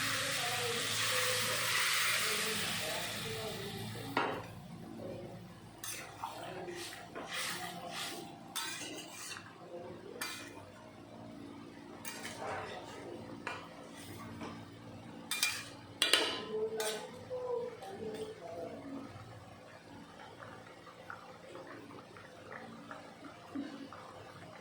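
Fish curry with kohlrabi is poured into hot spiced oil in a pan, giving a loud hissing sizzle for a few seconds that quickly dies away, followed by light clinks of a utensil against the pan.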